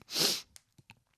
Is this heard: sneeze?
yes